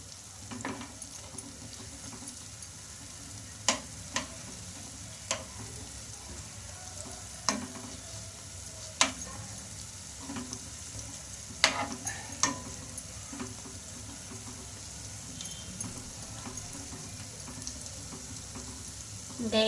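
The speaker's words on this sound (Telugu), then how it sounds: "ఇలా ఇంకొక వైపు కూడా బాగా గోల్డెన్ కలర్ వచ్చే వరకు బాగా ఫ్రై చేసుకోవాలి" Buns frying in oil until golden, a steady close sizzle with scattered sharp pops and clicks from turning or stirring, continuing evenly throughout.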